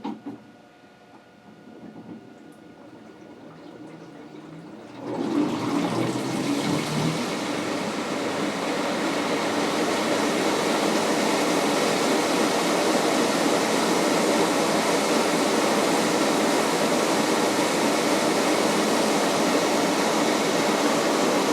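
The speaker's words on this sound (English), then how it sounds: "So what it's going to do is it's going to rotate the tub and it's going to display the RPMs on the screen." An LG top-load washer's tub spinning up in service-mode RPM test, with a low hum rising abruptly after about five seconds into a steady, loud whirring rush that holds to the end, with no talk.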